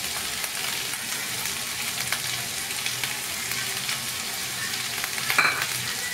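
Onion, capsicum and carrot fry with turmeric and salt in a pan for brown bread chilli, a steady close sizzle running throughout with a brief scrape of stirring near the end and no talking.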